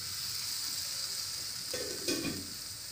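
Purple yam pieces frying in oil in a covered pan on a low flame, a quiet, even sizzle with a couple of brief scraping clatters near the end.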